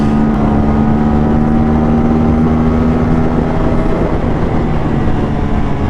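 An Aprilia RS457 motorcycle engine runs hard during a top speed test ride, a loud, continuous roar with a steady droning tone and heavy wind rush.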